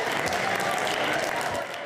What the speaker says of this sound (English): her caucus stood cheering